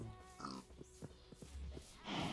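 Pigs in the video game Minecraft give several short grunting oinks in an irregular sequence, moderately close, ending with a burst of rustling game noise.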